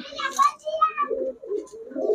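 Pigeons coo softly in short, low murmuring calls over a couple of seconds, close by and fairly quiet.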